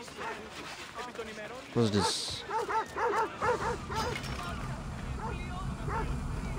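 Several dogs bark in rapid, repeated bursts in Assassin's Creed Odyssey, loud and close, while someone talks over them.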